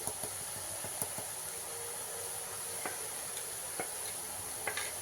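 Boondi batter sizzles steadily in hot oil, a continuous bright frying hiss broken by faint ticks and clinks from a utensil.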